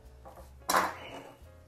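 A knife cuts through sliced ham into cubes, giving one sharp clack against a hard surface partway through, with quiet, dull kitchen background before and after.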